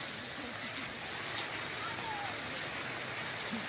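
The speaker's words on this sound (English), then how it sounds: "it's raining." Heavy rain pours steadily during flooding in Gambia, a dense continuous hiss of drops drumming on surfaces, loud and unbroken throughout with a few faint sharper spatters.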